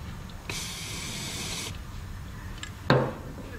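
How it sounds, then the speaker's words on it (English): Aerosol spray paint hisses into bolt holes while side steps are mounted on a 1994-2002 Dodge Ram truck: one steady, close hiss of about a second, then a short sharper burst. "we'll spray some paint up in those holes"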